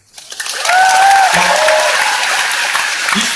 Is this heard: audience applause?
yes